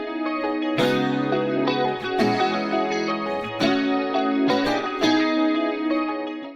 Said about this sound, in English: you can hear these jazz guitar chords that I wrote for the chorus